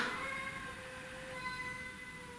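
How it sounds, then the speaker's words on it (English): A house cat complaining at a neighborhood cat gives one faint, drawn-out meow far in the background, soft against a quiet indoor hiss. "my cat is starting to complain about this cat"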